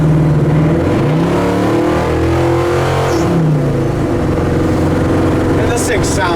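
A 1966 Chevrolet C-10 custom truck rumbles steadily as it drives down the road, its engine tone rising and falling across the pass, with people talking over it.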